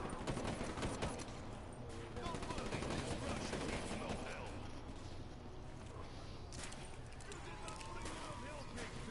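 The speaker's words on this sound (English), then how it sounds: "Ready to shoot him. Gun him down." Dense, continuous gunfire from a shooter video game during a wave-based fight, steady bursts layered throughout with a voice talking over it.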